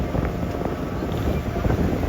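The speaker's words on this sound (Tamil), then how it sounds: "முகத்தில் அடிக்கிற அந்த கடல் காற்று, போட்டோட சவுண்டு" A boat ride at sea off Malpe Beach in Udupi, with a steady, loud rush of sea wind buffeting the microphone over a low, continuous rumble, and no talking.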